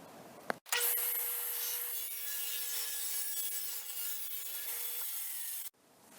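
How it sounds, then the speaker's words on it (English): A power saw cuts through a sheet of birch veneer plywood in one steady pass lasting about five seconds, with a sharp whining buzz that starts abruptly and stops abruptly, close and loud with no talking. "So I'm going to write down the dimensions of this and start cutting my plywood."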